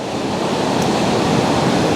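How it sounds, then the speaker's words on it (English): Sea water washes over the stones of Llanrhystud beach in West Wales, a loud, steady roaring surf wash with a breezy, wind-buffeted texture and no voices. "once this water starts hitting these stones, which it is now"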